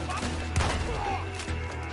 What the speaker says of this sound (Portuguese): Ó que tiro bonito.